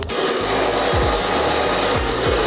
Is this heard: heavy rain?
no